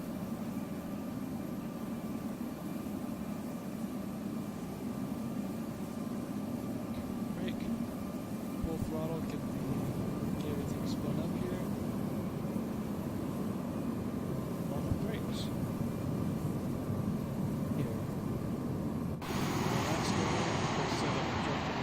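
An A-149 Gryphon jet in Arma 3 rolls along a long runway with a steady, continuous engine roar and rumble that swells louder near the end.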